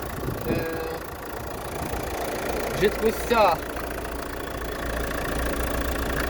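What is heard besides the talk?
car engine idling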